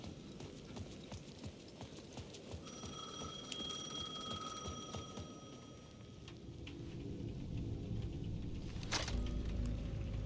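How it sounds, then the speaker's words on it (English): A payphone in the video game Alan Wake 2 rings with a steady electronic trill over a background of rhythmic clopping footsteps and ambient noise, moderately loud. "The payphone at the edge of the plaza was ringing again."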